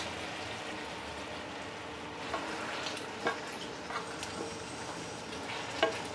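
Adobong pinakbet with soy sauce and oyster sauce simmers quietly in a pan, a soft sizzle with a few light clinks and scrapes as it is stirred.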